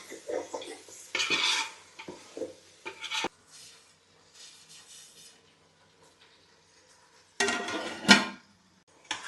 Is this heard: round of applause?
no